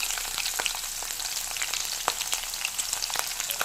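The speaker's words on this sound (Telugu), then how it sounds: "వెల్లుల్లిపాయలు ఇవి మొత్తం వేసి ఒక 5 సెకండ్స్ వేయించాలండి" Green chillies, ginger and garlic sizzle in hot oil in a pan for an omelette egg curry, a steady, close frying hiss with small crackles and no talking.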